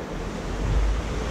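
Glacier river rushing beside a mountain picnic spot in Switzerland, a steady broadband roar of fast water with wind buffeting the microphone, continuous and close with no voices.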